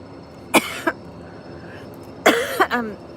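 Two pairs of sharp coughs ring out, close and fairly loud, separated by a quiet pause with faint room noise.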